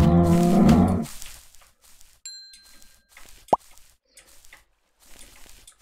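A cow lows loudly in the MineClone5 game on Minetest, one short moo at the start, followed by quiet game noises including a faint ding and a sharp pop.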